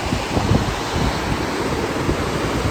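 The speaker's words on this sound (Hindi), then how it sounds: "ये है अलकनंदा रिवर और इसकी रफ्तार देखो आप।" The fast-flowing Alaknanda river rushes in a dense, loud, continuous roar of churning water, close and unbroken, with no voices over it.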